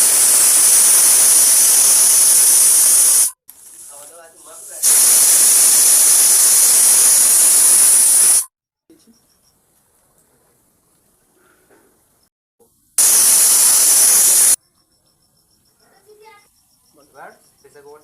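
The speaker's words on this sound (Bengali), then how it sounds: "মাংসটা কড়া থেকে নামিয়ে প্রেসার কুকারে দিয়ে এবার একটা সিটি মেরে নেবো।" A pressure cooker holding chicken vents steam, giving loud bursts of hissing and whistling that come and go three times, each lasting a few seconds, with quieter kitchen sounds between them.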